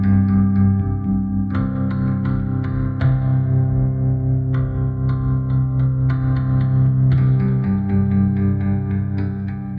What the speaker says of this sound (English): I really like these railhead rings here with this reverb.